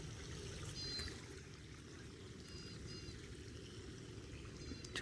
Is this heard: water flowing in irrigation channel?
yes